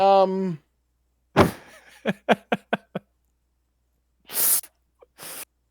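A single loud sneeze bursts out after a short vocal sound, followed by a few quick breaths and another sharp burst of noise near the end.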